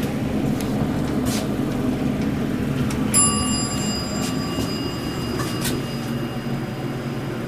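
An old elevator bell gives a single bright ring partway through, standing out over a steady mechanical hum and rumble of the moving car.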